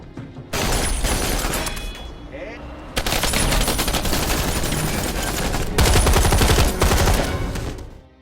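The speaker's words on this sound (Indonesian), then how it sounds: "terjadilah baku tembak di antara mereka" Gunfire in an action film shootout, dense loud bursts of automatic and single shots in three long volleys with brief pauses, booming and continuous, with no talk.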